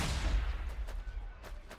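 Ork artillery firing in the strategy game Warhammer 40,000: Sanctus Reach, a low rumbling boom opening the stretch and fading into a rolling tail, with a few softer thuds following farther off.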